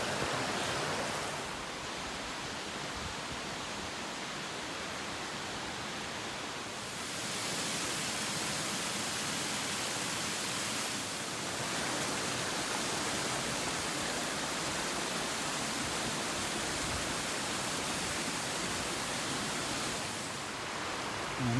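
A creek crossing a hiking trail rushes in a broad, continuous wash of flowing water, loud and close, steady throughout with slight swells in intensity.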